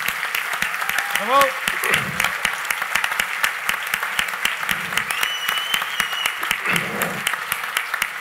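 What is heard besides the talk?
audience applause at a gala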